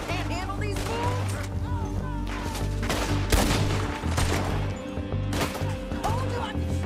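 Rapid gunfire in the Red Dead Redemption game, a steady volley of shots and cracks over an ongoing music score, with one louder blast midway and no talk.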